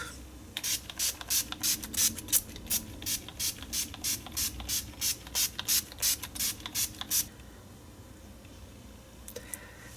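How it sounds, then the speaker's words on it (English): A quick run of about twenty short, rhythmic spritzes from a pump bottle of NYX matte makeup setting spray, close and crisp, then quiet. "Long Last Setting Spray."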